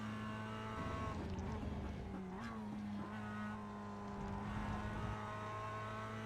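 A Mazda Cup race car in the iRacing sim at Laguna Seca drones with a steady engine whine that shifts pitch as it climbs through the gears, with brief tire scrub, heard close and alone.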